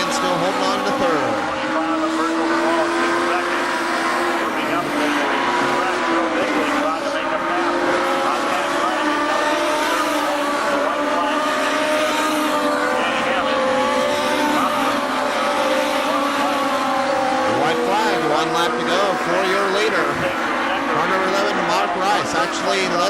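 Race cars circle a small speedway track, engines droning and whining together at a steady distance with occasional tire squeal, while an announcer calls the race over the noise throughout.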